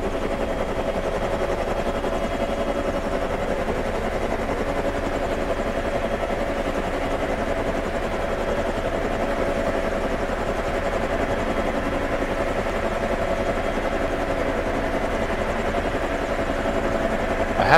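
Helicopter flying by in the Prepar3D flight simulator, with a continuous loud rotor and engine drone that holds steady throughout and no talk.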